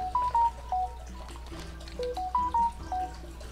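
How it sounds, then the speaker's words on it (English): A mobile phone gives off a short melodic tone sequence, repeating bright beeping notes in two phrases over faint background noise. "Sorry guys, that's just my phone."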